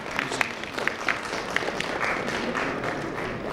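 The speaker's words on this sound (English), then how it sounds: "We have a huge round of applause for Srijan Nagar." Audience applause follows a corporate presentation, a soft, steady patter of clapping with a few sharper claps standing out, moderately distant and lasting the whole stretch.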